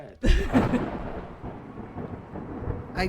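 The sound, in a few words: thunderclap in a video game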